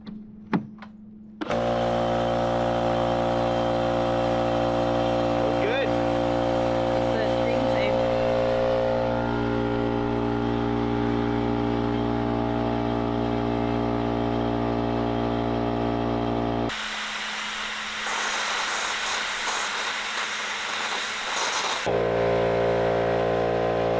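Cement mixer running off a Jackery Explorer 3000 Pro power station during a barn build, a steady loud motor drone with a rhythmic rumble, and a brief break near the end where the tone changes.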